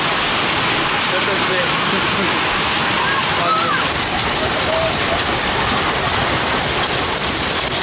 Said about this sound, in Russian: Град усилился, вообще огромными летит, смотрите, как выметает шары.